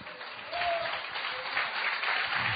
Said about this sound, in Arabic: Let's give God a clap offering.